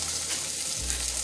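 Jasmine rice being stirred in a hot pan, a steady broadband sizzle with a low hum that drops away partway through, heard alone without talk.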